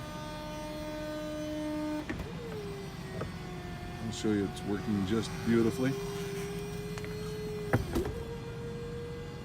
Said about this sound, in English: Let's put the power top up one time here.